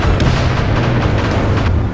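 Heavy gunfire and explosions from an animated war battle, a dense rumbling barrage of low booms and bursts rolling continuously for a couple of seconds, loud and close, with no voices.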